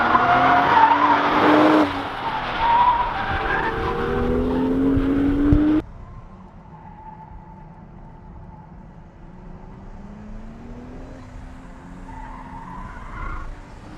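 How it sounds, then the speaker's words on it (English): A manual Toyota GR Supra with its B58 turbo engine screams under hard acceleration on a race track, tires squealing, then the engine note drops abruptly to a quieter, rising drone. "That B58, man, it's got some torque when that turbo comes on."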